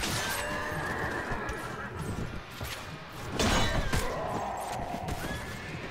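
Horses neigh and whinny amid a busy Mount & Blade Floris mod battle, with hoof clatter and clashing noise underneath, the cries standing out loud and close.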